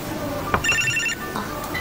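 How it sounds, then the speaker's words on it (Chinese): An electronic phone ringtone chirps in short bright tonal bursts in an indoor drama scene, ringing briefly at moderate volume over a soft room background. "我接个电话。"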